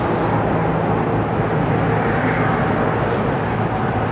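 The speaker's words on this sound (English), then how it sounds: "Seeing that jet come out of the clouds" A jet airplane descends out of the clouds to land on the runway at Ketchikan, Alaska, giving a loud, steady, broadband engine roar that fills the scene without pause.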